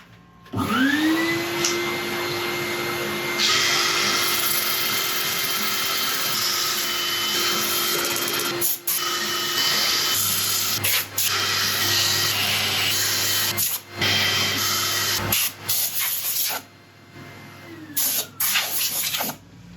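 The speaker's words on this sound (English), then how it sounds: "Right, I'll set up for sanding." A steady, loud motor whine of a spinning lathe with rough sanding friction on a yew crotch, running continuously with a few brief dips.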